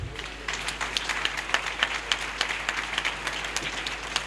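A church congregation applauding at a pastor's retirement ceremony, with a steady patter of many hands clapping, fairly even and moderately loud, with a few sharper individual claps standing out throughout.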